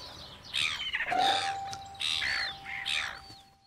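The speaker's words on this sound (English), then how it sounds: "Hello there, seagulls." Seagulls calling in a children's show, a few loud, close squawks and cries in quick succession, with a short gap between the bursts.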